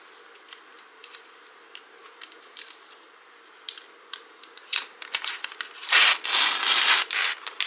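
Protective film being peeled off a new MacBook Pro 16 (M3 Pro), with soft scattered rubbing and crinkling early on, building to a louder, sustained ripping and crackling run near the end.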